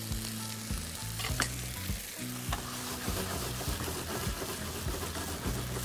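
Salmon and farfalle pasta with broccoli sizzling in sauce in a pan, a steady close frying crackle with occasional stirring clinks and scrapes.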